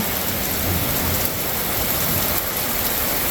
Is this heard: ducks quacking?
no